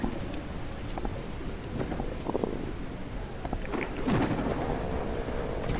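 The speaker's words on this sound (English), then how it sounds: "Oh, I got a rainstorm." Steady rain with low thunder rumbles in the medieval survival game Crestfall, a continuous wash of rainfall under deeper rolling booms that swell toward the end, with no talking.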